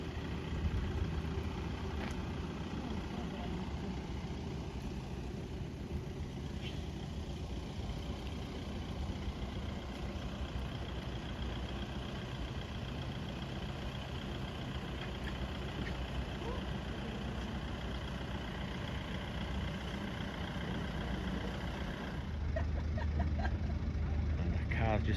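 A tour car's engine idles nearby on the Rock of Gibraltar, a steady low rumble that holds evenly for about twenty-five seconds with outdoor background noise around it.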